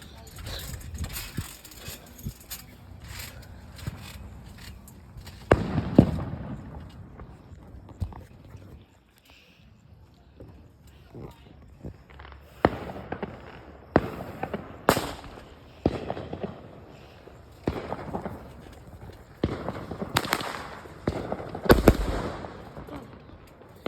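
Fireworks burst in a loud outdoor barrage of sharp booms and crackles, scattered then quickening toward the end, heard from a trampoline, with faint voices in the background.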